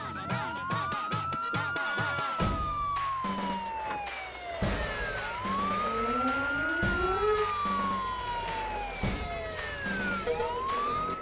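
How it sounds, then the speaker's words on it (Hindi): A police jeep's siren wails loud and close, rising and falling in repeated sweeping cycles, over a jumble of other noise. "पुलिस के जीप की सायरन है।"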